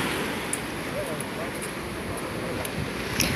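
Steady broad wash of sea surf breaking on a Turkish beach, continuous and fairly close, with wind blowing across the microphone and no distinct individual wave crashes.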